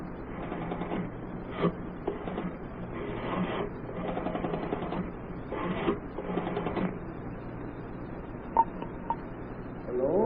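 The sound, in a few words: telephone being dialed in a booth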